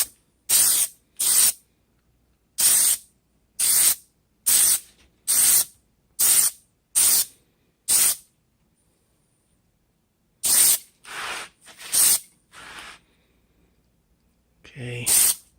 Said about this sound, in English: Trying to spray evenly as I go.